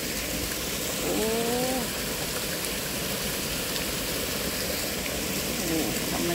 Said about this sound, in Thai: โอ้โหน้ำไหล